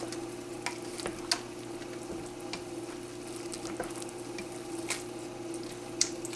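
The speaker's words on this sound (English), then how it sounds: "Alright, we're going to stir it up a little bit." Beef stew with meat and potatoes being stirred in a slow cooker, soft scraping and sloshing with occasional spoon clinks against the crock, set over a steady low simmering hiss.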